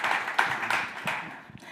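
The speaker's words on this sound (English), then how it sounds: "let's give a round of applause for our panel" An audience claps for a conference panel at a workplace diversity event, a brief burst of scattered applause from a small group nearby that tapers off quickly.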